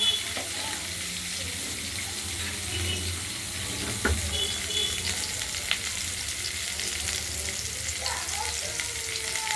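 Drumstick stalks frying in hot oil in a wok, a continuous loud sizzle with occasional clinks and scrapes of stirring, close up.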